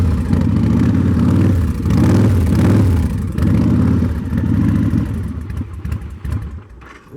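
A 2005 Victory Kingpin motorcycle, cold and not yet warmed up, rumbling loudly through its exhaust pipes up close, with several revs that rise and fall before it eases back toward idle.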